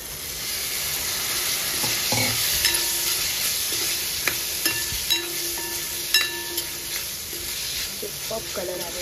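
Cabbage and peas stir fry being mixed in a pan gives a constant hissing sizzle, broken by intermittent scrapes and light clinks of a spatula against the pan.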